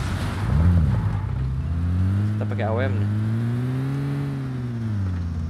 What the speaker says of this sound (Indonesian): Kaget gua pak, kira suara mobil.